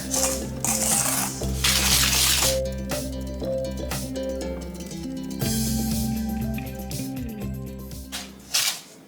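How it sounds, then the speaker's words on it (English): A spoon stirs sugar and ground cinnamon in a bowl, giving light clinks and scrapes against the dish over steady background music. "We'll start with that and give that a stir."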